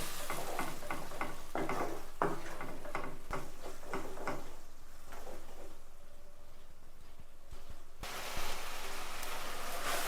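Egg gravy masala with tomato being stirred in a pan, a soft scraping and sizzle with a run of quick spoon strokes at first that thin out into a quieter simmer, then pick up again near the end.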